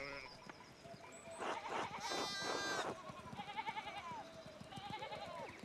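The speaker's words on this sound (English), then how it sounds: "We need to get these sheep under control." Sheep bleating in the video game Pentiment, several wavering harmonic calls overlapping across the clip, close and fairly loud, with game music or ambience underneath.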